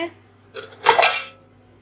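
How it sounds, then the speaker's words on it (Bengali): Dishes and utensils being scrubbed make a short clink and rattle of metal and crockery, a quiet scrape followed by a louder clatter lasting under a second. "বাসনগুলো দেখে মেজে নিই"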